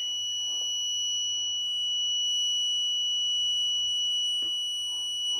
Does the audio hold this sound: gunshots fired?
no